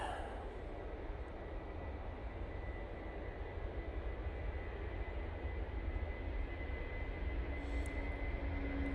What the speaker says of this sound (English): Ryanair now on the roll, using the 737-800.